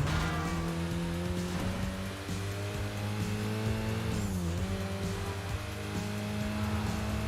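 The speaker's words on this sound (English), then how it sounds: "I do like the sound the cars make when they're upgraded though. Like the turbo whistle and everything." Upgraded race cars in the video game Midnight Club LA Remix, with a sustained loud engine drone and a rising turbo whistle, plus tire squeals and skids as the cars corner, with no talk.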